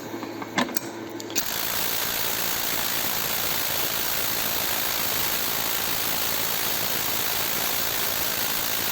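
DRIVAK EW002 cordless 600 Nm impact wrench hammering at maximum speed: after a second of handling noise, a loud, dense, steady rattling hammer runs continuously to the end.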